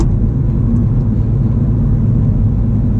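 Modified manual Mini Cooper S with about 260 horsepower pulling hard out of a corner, a loud, deep, steady engine drone with heavy low rumble heard from inside the car, no voices.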